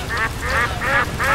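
Four loud, evenly spaced duck quacks, close and clear with nothing else over them, played as a sound effect during a Tomb Raider game stream.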